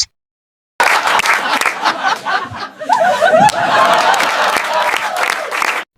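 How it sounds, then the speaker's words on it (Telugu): Studio audience applause and scattered laughter at the close of a Telugu comedy show segment, a steady, dense burst of clapping after a short silence that swells and then cuts off. "ఆడియన్స్, మనోడికి క్లాప్స్."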